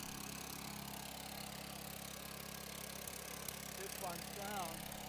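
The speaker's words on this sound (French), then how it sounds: "À présent, on n'entend plus que le moteur lui-même." A small engine runs steadily during a storm generator demonstration, a constant idling hum close by, with brief clicks and a faint tonal sweep near the end.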